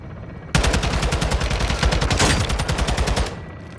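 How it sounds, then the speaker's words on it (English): Rapid video game gunfire empties a full magazine in one sustained burst of about three seconds, loud and close, the shots evenly spaced in a fast rhythm. "I have to unload an entire fucking magazine into them."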